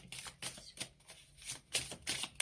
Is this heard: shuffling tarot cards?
yes